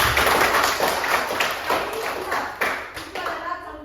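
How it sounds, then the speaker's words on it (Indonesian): A class of students claps for a presenting group in a classroom, a moderately loud run of overlapping, uneven claps lasting a few seconds, with some voices faintly underneath. "tepuk tangan dulu untuk kelompok 3"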